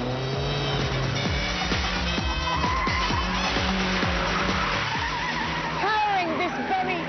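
An Ariel Atom sports car with a 1.8-litre K-Series engine drives hard, its loud, continuous engine note rising and falling through gear changes close up, with a voice talking over it.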